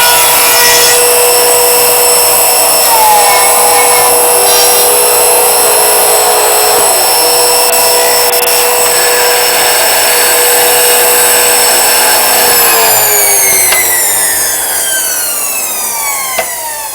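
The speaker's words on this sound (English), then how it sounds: "Turn on the motor system and then activate the foot pedal, which brings the mouse hole router down." A mouse hole router machine cuts through a wood piece with a steady, loud, sustained high-pitched whine, its pitch sliding down as the motor winds off near the end.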